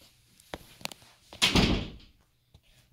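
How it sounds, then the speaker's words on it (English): Indoor door swung shut with a solid, close thud, preceded by a few light knocks and rattles of handling. A faint click follows afterward. "First, let's close the door."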